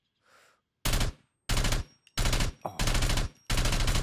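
Hunter rifle shots in the video game SCUM: five loud, close gunshots ring out in an uneven rhythm, each a sharp blast with a short tail, after a brief faint rustle at the start.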